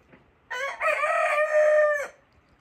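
A single rooster crows once, loud and close, a strained call lasting about a second and a half against a quiet background.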